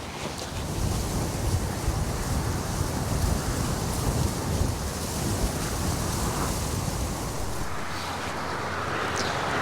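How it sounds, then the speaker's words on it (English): A sleety hail and snow shower on a winter hike beside a motorway bridge gives a loud, continuous rushing hiss of precipitation and wind that holds steady throughout. "There's another sleety hail and snow shower."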